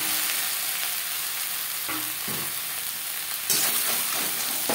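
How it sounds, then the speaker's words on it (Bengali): Fish curry masala sizzles steadily in a pan while a spoon stirs it, with loud continuous frying hiss and a few scraping strokes of the spoon. "কাঁচা গন্ধ যাওয়া পর্যন্ত নাড়াচাড়া করে নেব।"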